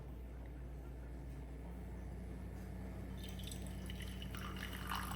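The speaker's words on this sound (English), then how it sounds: "Turn on my stirrer." A magnetic stirrer spins a water and dish soap solution in a steady low mechanical hum with faint whirring, joined near the end by soft watery dripping and trickling sounds, quiet and close with no talking.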